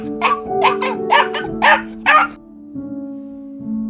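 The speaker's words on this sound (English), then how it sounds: "This is a dog." A small dog barks about six times in a quick, close, loud run over steady background music, which then carries on alone.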